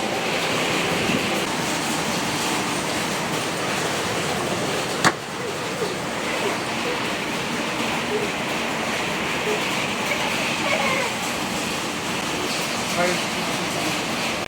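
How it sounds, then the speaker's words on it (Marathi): Heavy rain pours down steadily in a village on a bullock-cart racing day, a dense, even hiss that continues unbroken throughout, with one brief knock partway through. "धो धो धो धो पाऊस पडलेला आहे"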